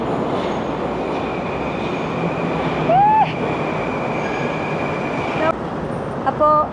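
A Moscow metro train runs through the tunnel with a loud continuous rumble, brief rising wheel squeals and a sustained whine, while people talk faintly now and then.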